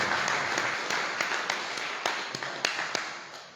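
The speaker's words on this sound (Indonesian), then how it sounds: "tepuk tangan untuk panitia" An audience applauds the organising committee at the closing of an art exhibition: a steady wash of many hands clapping, fairly close and sustained, with a few sharper individual claps standing out.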